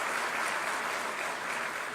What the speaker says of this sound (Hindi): आप सभी अपनी तालियां मंच तक प्रेषित करें